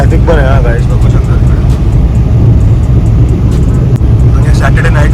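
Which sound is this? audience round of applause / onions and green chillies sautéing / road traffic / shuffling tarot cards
road traffic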